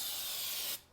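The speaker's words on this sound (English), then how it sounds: "I'm gonna spray here in the pocket." MO Deck nonstick treatment hisses out as a fine mist onto the pocket of a mower deck, one steady close spray burst that cuts off abruptly near the end.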